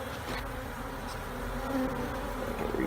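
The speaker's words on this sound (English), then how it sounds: "Got a lot of bees on here." Honey bees buzz densely and close during an urban hive rescue in Tampa Bay, Florida, a steady, loud humming drone with individual bees passing near.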